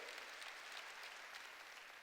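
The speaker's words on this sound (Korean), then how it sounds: "박수로 하나님께 영을 돌리죠" Congregation at a church worship service applauding together, a dense, steady wash of hand claps filling the whole moment at moderate loudness with no speech over it.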